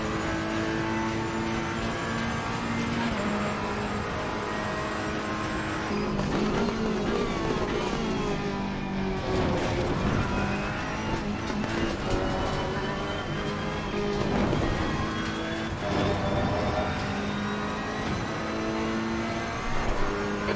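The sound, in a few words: racing car engine at high revs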